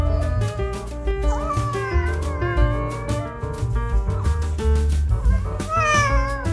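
A cat meows and caterwauls loudly and repeatedly at close range, protesting while it is handled for a trip to the vet, with tonal background sound running throughout.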